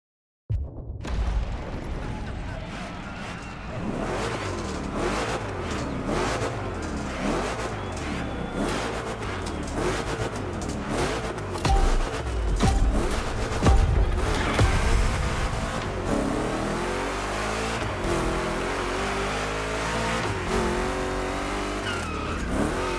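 Two Chevy big-block cars race in The Crew Motorfest, engines revving hard and rising and falling in pitch through repeated gear changes, with tire squeal and skidding, loud and continuous, with no voice over them.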